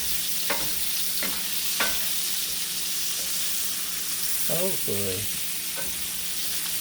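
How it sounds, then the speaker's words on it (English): Sausage, onion and cabbage sizzle steadily in an enameled cast iron skillet, with a few scraping stirs and clinks from a utensil against the pan; a voice speaks briefly near the middle. "I'm going to stir that around and get it a little wilty"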